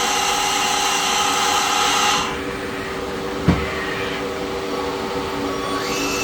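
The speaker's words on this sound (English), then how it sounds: "Spindle turning." A Citizen L20 CNC Swiss lathe runs with a steady mechanical hum and whine as its live-tool spindle turns. The sound shifts partway through, and a single sharp click follows, close and continuous with no talking.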